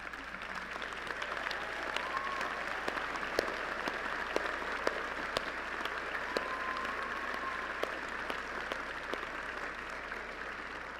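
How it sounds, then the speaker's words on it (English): Audience applause for parents at a Lamar University fine arts and communication commencement in May 2019, a sustained, even wash of many hands clapping in a large hall, fairly distant and soft, with scattered sharper claps standing out. "Would the parents of our candidates please stand and receive our applause?"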